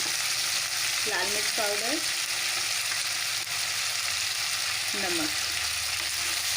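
Potatoes and French beans fry in a pan with spices for an aloo sem sabzi, a steady broadband sizzle running throughout, while a voice briefly speaks over it.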